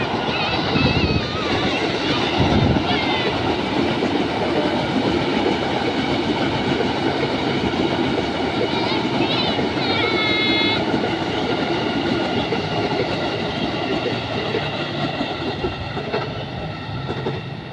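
A KRL commuter train bound for Manggarai rumbles past close by with steady rail clatter and squealing wheel tones, while voices speak briefly over it.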